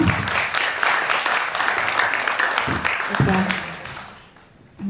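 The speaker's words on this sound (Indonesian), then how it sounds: "Tepuk tangannya dulu dong." Audience at an anniversary diversity festival applauds in a steady, dense wash of claps that holds for several seconds and then fades out, fairly close, with a voice faintly mixed in.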